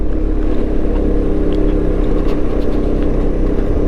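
A Yamaha X-MAX 250 scooter's engine and exhaust hum steadily on a mountain climb along the Pacet–Cangar route, a constant low drone heard up close with no talking.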